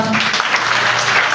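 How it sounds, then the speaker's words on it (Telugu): A church congregation at a revival gathering claps hard and steadily in a loud, close wash of clapping that runs for the whole short moment. "గట్టిగా చప్పట్లు కొడతారా?"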